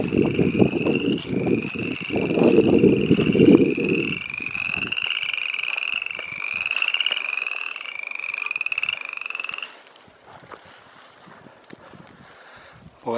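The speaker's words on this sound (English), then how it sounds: "It's frog season." A chorus of spring frogs in the Uncompahgre area croaks in steady repeated trills, with a low wind rumble at first, then fades out and falls quiet near the end.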